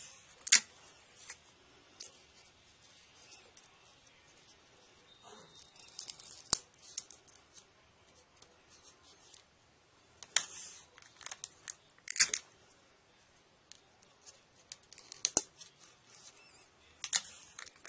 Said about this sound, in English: I'm going to cut it right here. And now I'm going to grab that tape and tape this down.